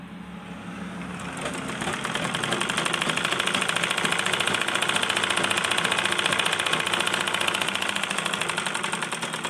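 A sewing machine runs steadily, stitching the back neck of a blouse with a half-inch seam allowance, a continuous dense mechanical whir that builds slightly and holds for about ten seconds with no voices.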